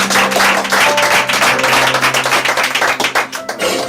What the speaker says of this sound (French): Acclamons pour le roi Jésus.